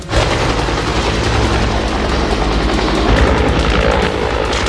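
A military helicopter in a Vietnam War film drops troops into a grassy mountain forest, its loud thudding rotor roar filling the scene continuously, with booming undertones.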